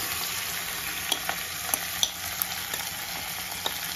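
Marinated chicken frying in a clay handi with whole spices and dried red chillies, a soft continuous sizzle with a few faint clicks of stirring.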